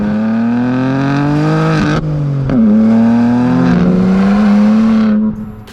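A BMW G80 M3 accelerating hard, its engine note rising in pitch through the gears with brief dips at each shift, loud and close throughout.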